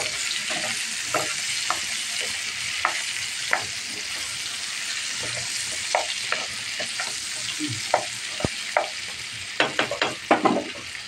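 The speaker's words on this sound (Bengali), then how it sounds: "আমার বেগুন ভাজাটা আস্তে আস্তে হইতেছে" Brinjal (eggplant) slices fry in a pan with a steady, dense sizzle, broken by frequent short stirring scrapes and clicks that cluster more tightly toward the end; close and fairly loud, with no voices.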